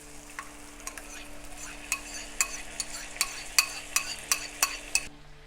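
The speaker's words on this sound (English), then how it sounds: "we can add the coconut milk" Kerala fish curry being stirred after coconut milk is poured in, with a spoon scraping and tapping against the pan in a steady rhythm of close, distinct clinks over a soft simmering hiss.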